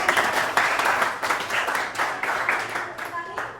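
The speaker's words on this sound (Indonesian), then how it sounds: "coba beri tepuk tangan" A classroom of students clapping for a presenting group, brisk lively applause that swells and dips in waves, fairly close, with a few voices mixed in near the end.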